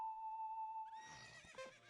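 A horse whinnies in the video game Zelda: Ocarina of Time. The faint neigh follows a steady electronic tone and stays quiet and brief.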